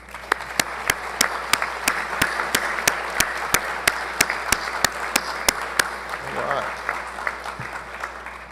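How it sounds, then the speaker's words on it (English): An audience at a pharmacy school white coat ceremony claps together in a full round of applause, with a few sharp, evenly spaced loud knocks punctuating it before it thins out. "I'd like to give you a round of applause."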